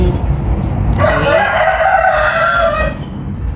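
A rooster crows once, loud and close, a long drawn-out cock-a-doodle-doo over a steady low background rumble, fading out near the end.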